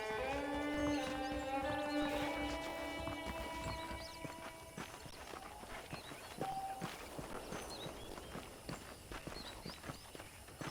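Saddled horses in the video game Red Dead Redemption clip-clop along at a walking pace, steady hoofbeats rising beneath a faint musical tone that fades out early, with no voices.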